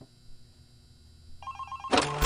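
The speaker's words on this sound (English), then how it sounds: "Okay, got a phone call here." Telephone ringing in the horror video game FNAC Remastered, a bright electronic ring swelling in over a low ambient hum and growing loud near the end, with no talking.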